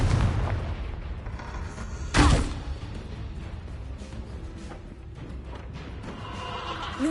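In Hogwarts Legacy, a Confringo blasting spell erupts in a loud, booming explosion partway through, set against a steady rumble of battle noise and scattered smaller bursts.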